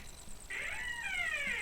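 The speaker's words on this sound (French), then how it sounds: "excusez-moi, le porte s'est ouvert, c'est mon chat" A pet cat meows once, a clear drawn-out call that rises and falls, close by and fairly loud indoors, with no talk over it.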